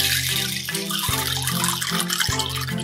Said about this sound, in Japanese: 小豆がね、入ってる時にね、水入れるのもね、すごいね、なんかいい音ですよ